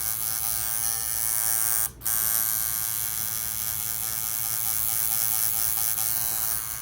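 A tattoo machine needle buzzes steadily during portrait tattooing, a close, continuous electric hum with a brief dropout near the two-second mark before it resumes.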